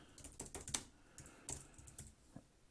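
Uneven bursts of keystrokes on a computer keyboard, clicky and close, typed in stops and starts while inserting links in a navigation assignment.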